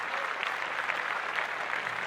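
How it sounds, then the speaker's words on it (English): Audience clapping for a celebrity shout-out on a talk show, a steady, dense wash of applause at even loudness throughout with no voices over it. "Clap it up for Keanu Reeves"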